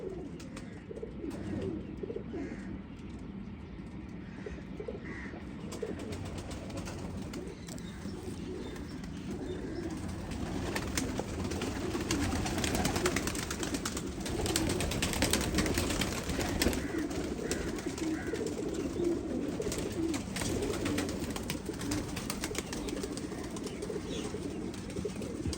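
Teddy pigeons coo in a loft, low soft throaty calls repeating over a constant background hum for a long stretch, with no talk.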